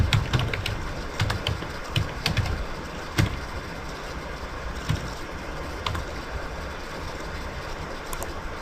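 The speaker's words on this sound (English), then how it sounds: "we're going to type in" Typing on a computer keyboard: scattered light clicks and taps, busier at first and then thinning out, set against a faint, noisy background hum.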